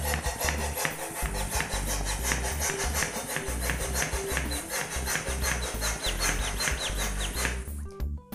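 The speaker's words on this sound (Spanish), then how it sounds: "lo primero que tenemos que hacer es inflar nuestro globo al tamaño que queramos nuestra piñata. Nosotros aquí vamos a utilizar una bombita" A small hand pump inflating a balloon as the base for a piñata: rapid, regular rasping strokes of air, close and loud, continuing for several seconds before stopping.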